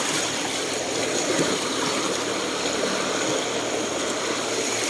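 Steady broadband rush of river water flowing while crossing the river, continuous and close, with no voices over it.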